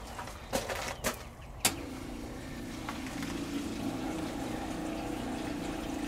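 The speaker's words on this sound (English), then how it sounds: "Now what we're going to do is going to turn on the water pump" An RV's onboard water pump switches on and runs steadily, a sustained motor hum after a few sharp knocks and clicks at the start, heard close up with no talking.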